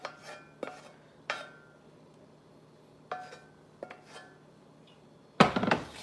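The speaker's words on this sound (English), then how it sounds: "we're going to give this a nice mix, incorporating the onion with the potatoes" A spoon or spatula scraping and knocking in a pan as sautéed onion is mixed into potatoes, several separate strokes followed by a louder burst of clatter at the end.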